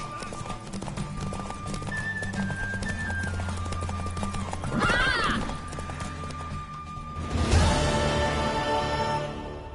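Hooves clip-clop steadily while a horse gives two loud whinnies, one midway and one near the end, over a constant background from the video game Witcher 3.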